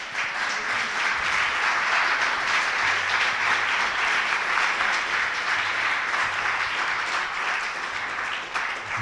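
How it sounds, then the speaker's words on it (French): Sustained applause from a seated audience at a workplace well-being talk, steady and dense for the whole stretch with no voices on top. "Je vous propose d'applaudir nos 4 intervenants."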